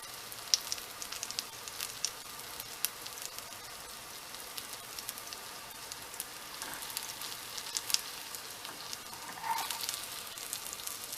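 Banana pancake batter for homemade dog treats sizzles in a frying pan, a soft, steady crackle scattered with small pops and no talking.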